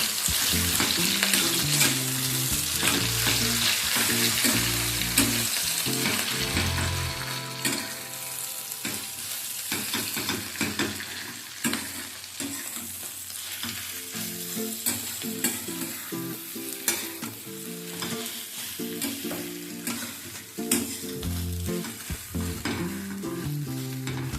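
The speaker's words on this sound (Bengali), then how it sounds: "চিংড়িটাকে কিছুক্ষণ একটুখানি নাড়াচাড়া করে নেব।" Ground shrimp paste with salt sizzles in a hot pan while being stir-fried for a shrimp bhorta, with steady close frying hiss and repeated scraping stirs throughout and no voices.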